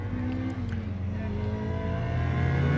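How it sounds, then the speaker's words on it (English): Ford Focus Mark 1 race car on a racing circuit, its engine droning loudly and steadily as it passes close by, the pitch shifting slightly with revs. "There's a Focus. Focus Mark 1. Sounds awesome."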